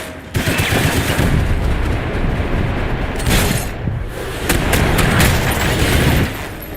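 Loud bursts of gunfire from the video game Max Payne 3, shots cracking in rapid clusters with booming echoes and no voices.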